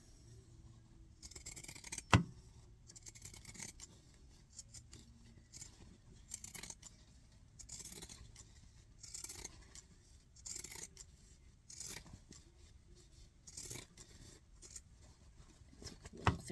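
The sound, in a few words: pinking shears cutting fabric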